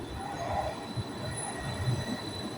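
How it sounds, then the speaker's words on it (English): An Edinburgh tram bound for Newhaven pulls away from the station, its low rumble and faint wheel squeal heard at a moderate distance, quiet and steady across a few seconds. "It looks like the tram is ready to leave."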